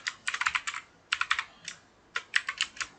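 Keys on a computer keyboard are pressed in three quick bursts of crisp, close clicks while typing a shortcut, with short gaps of quiet between them.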